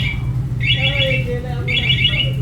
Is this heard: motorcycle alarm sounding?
yes